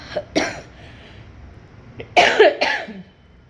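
A short cough, then a pause and a louder burst of two or three harsh coughs close by, with no talking.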